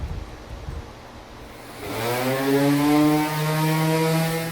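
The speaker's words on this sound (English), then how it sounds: "I'm going to get all the boards sanded first prior to piecing them together. And I'm using a 100 grit sandpaper." A power sander with 100 grit sandpaper works over free pallet wood boards meant for a farmhouse table. It spins up after a quiet start into a loud, steady droning whine that carries on alone.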